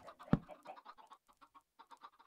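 Minecraft chickens in the Monifactory modpack cluck and chatter in quick, faint bursts, one sharper peck-like sound near the start followed by a run of soft clucks close by, with no talk.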